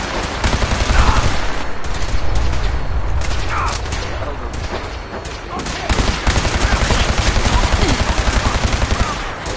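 Dense, continuous gunfire from a Fallout 4 firefight, rapid overlapping bursts and volleys that stay loud throughout, with occasional voices mixed into the chaos.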